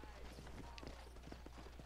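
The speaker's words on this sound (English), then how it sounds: "let's mount the horse" Horse hooves clip-clop in the Red Dead Redemption video game, a faint, quick rhythmic series of hoofbeats over a low constant hum, with character voices speaking over it.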